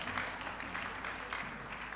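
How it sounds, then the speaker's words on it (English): A church congregation applauding, steady crowd clapping at moderate distance that keeps going without a break. "Put your hands together for Jesus Christ."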